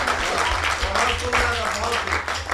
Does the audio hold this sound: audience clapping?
yes